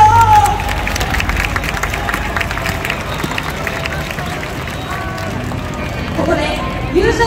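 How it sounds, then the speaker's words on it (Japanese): A festival crowd applauds a contestant after a hard-fought contest at Waseda University's autumn school festival. The clapping is a constant wash of many hands, with a voice talking loudly over it. "熱い戦いを見せてくれた柳下さんに大きな"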